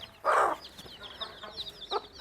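A mother hen with a brood of chicks gives one loud, close cluck, followed by softer clucks, while the chicks keep up high, rapid peeping throughout.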